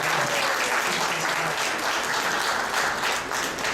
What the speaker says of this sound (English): Give her a little round of applause.